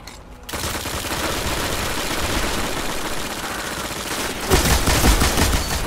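Heavy machine gun fire in the Destiny video game, a dense sustained burst of rapid shots that swells louder near the end, with no talk over it.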